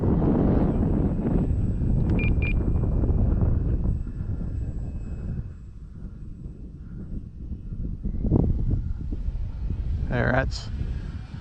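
Steady engine drone of an FMS PC-21 Pilatus model plane at full throttle on its maiden flight, under gusty wind noise, with someone speaking briefly over it.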